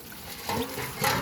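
A bucket of water mixed with dirt is poured out at the base of a lemon tree on a rooftop, giving a soft, brief splash and gurgle that rises in two surges.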